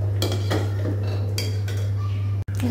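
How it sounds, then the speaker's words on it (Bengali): A spoon scrapes and clinks against a pot in several short strokes, stirring sugar into a bread custard mixture over a steady low hum. "দিয়ে এটাকে এভাবে নাড়িয়ে ঘন করে নেব।"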